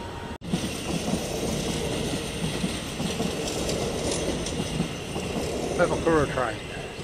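A train runs along the railway at the Puhinui Interchange with a steady, loud rolling rumble that holds throughout, and a brief wheel squeal rises near the end.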